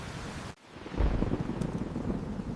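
Steady rain hiss with a deep rolling rumble of thunder swelling after a brief dip, loud and enveloping.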